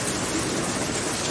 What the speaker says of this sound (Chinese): 哎呀，大雨了